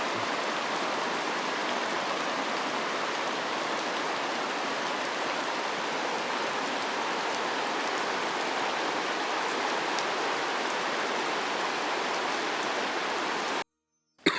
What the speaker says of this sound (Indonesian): Hujannya sangat deras sekali sahabat.